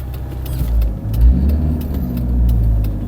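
A 2007 Daewoo Lanos engine, running on gas, idles close by with a steady low rumble whose revs rise and dip unevenly over a few seconds, with no talking.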